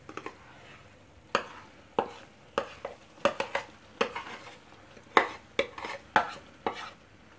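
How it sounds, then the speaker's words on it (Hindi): A spoon scrapes and knocks against a pan as date paste is stirred into halwa, giving a series of sharp irregular clacks and scrapes over a quiet background. "इसमें अब डालेंगे खजूरों का पेस्ट।"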